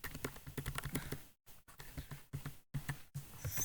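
Fast, steady typing on a computer keyboard while filling in records in MS Access, with close, light key clicks in quick runs and a few brief pauses between bursts.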